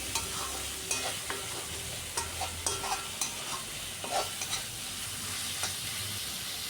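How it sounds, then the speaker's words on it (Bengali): Onions stir-fried in a wok until reddish brown: a constant sizzle with repeated spatula knocks and scrapes every second or so, close and moderately loud, no talking. "পেঁয়াজটাকেও বারবার নাড়াচাড়া করে লাল লাল করে ভেজে নিচ্ছি।"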